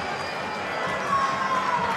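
Crowd cheering and roaring at the Penn Relays during a high school girls' 4x800m relay final lap, a steady dense wash of distant voices that swells slightly toward the end.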